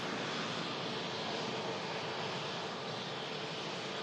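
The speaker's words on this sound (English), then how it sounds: "about to taxi past us here at the Manchester Runway Visitor Park" A passenger jet, just in from Alicante, taxis past the runway visitor park at Manchester Airport, giving a steady, broad engine roar that holds evenly at moderate loudness with no voices.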